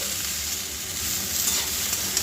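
Malabar spinach seeds fry in a pan with a steady, close sizzle while being stirred, the hiss continuous and fairly even throughout with no talking.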